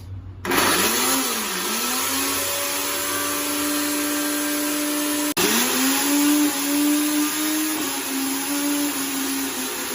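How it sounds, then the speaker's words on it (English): A blender motor whirs loudly and steadily as it blends onion, its pitch dipping as the contents catch, briefly stopping with a click, then restarting and running on. "So I'm just going to add it inside the blender"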